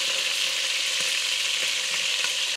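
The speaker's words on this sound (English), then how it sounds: "You wanna sear every side of that meat." Meat sears for pasta alla Genovese in a hot pan, a loud steady crackling sizzle that cuts off abruptly at the end, with no talking.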